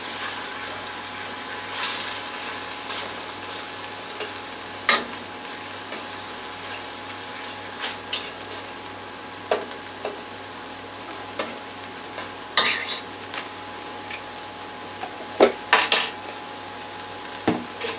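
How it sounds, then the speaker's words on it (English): A utensil stirs potatoes and sirloin steak hash in a pan, giving soft continuous scraping and frying hiss punctuated by scattered sharp metallic clinks and taps over about eighteen seconds, with no talking. "now I want to mix the potatoes with the steak"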